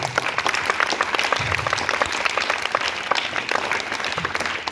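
Students at a National Science Day event in a boys' high school applaud for each classmate's science chart or model, a dense steady patter of clapping from a crowd that holds for the whole stretch.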